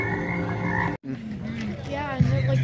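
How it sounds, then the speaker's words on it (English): Tree frogs croak in a short burst of low, throaty calls, with a brief cut partway through and a higher warbling call near the end, heard alone without talk. "Ribbit. Tree frogs."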